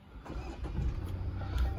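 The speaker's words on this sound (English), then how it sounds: "So the car roars to life, and it's a diesel one." Diesel engine of a Jaguar F-Pace cranking and catching, a short low rumble that settles into a steady idle, heard from inside the cabin with no talk.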